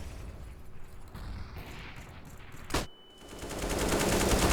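A sharp, loud gunshot rings out once during a competitive CS:GO match, standing out against a low, steady bed of game noise that swells afterward.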